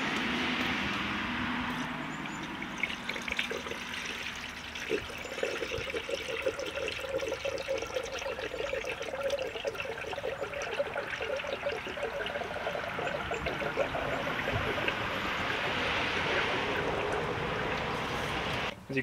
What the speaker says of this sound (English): I can fill the funnel with a lot of coolant, and it just slowly sucks it down as the air comes out